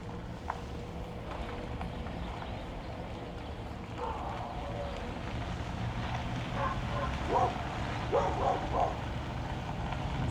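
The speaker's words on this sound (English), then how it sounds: "That's the dogs." Several dogs bark in a neighborhood near Exeter, Virginia, in the Appalachian Mountains. The barks come in short clustered bursts later on, at middle distance over a steady rumble of engine and road noise.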